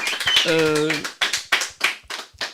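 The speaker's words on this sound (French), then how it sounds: "applaudissez tous les artistes qui sont là" A voice speaks briefly, then sparse hand claps from an audience at a performance event pop out in a loose rhythmic series of sharp, close bursts.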